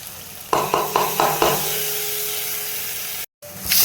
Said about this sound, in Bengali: এবার দেখো পেস্ট করে রাখা মশলাটা দিয়ে দিচ্ছি।